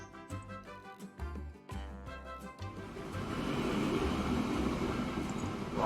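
A train with log cars in the Transport Fever 2 video game rolls along with rhythmic clanking and thumping that gives way to a steady rumbling roar, moderately quiet, with no talking.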